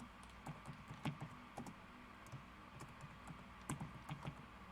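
Fingers type HTML code on a computer keyboard, quiet irregular bursts of soft clicking keystrokes with short pauses, close and faint.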